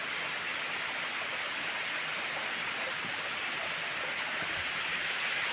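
A river flows along a trail in hot, sunny weather with light drizzle, giving a steady, broadband rush of water that holds at an even level throughout with no voices.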